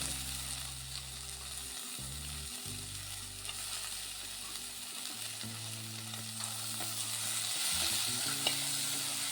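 Tomatoes frying with green peas in a pressure cooker pan for vegetable pulao give a steady close sizzle, broken by scraping stirs and occasional soft clunks of the spoon, with no voices.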